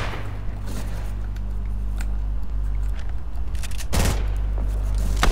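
Gunshots in a video game, sharp cracks scattered over a steady low droning background, with a louder burst of fire near the end.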